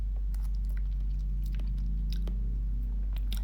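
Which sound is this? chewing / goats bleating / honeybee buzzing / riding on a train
chewing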